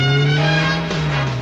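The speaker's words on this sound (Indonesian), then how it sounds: "Ada mobil lagi." A car passes close and loud, its tires squealing in a sustained high skid with a strong engine tone underneath, no voices.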